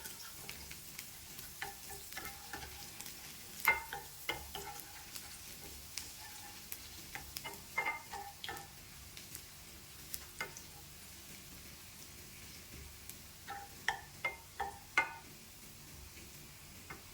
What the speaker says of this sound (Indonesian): lanjut kita mau bikin bawang putih cincang yang digoreng